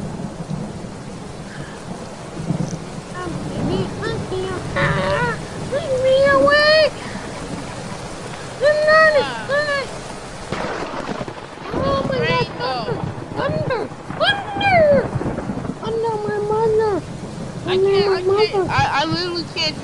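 Heavy rain pours steadily in a Roblox video game, with rolling thunder swelling at times, while voices talk over the downpour throughout.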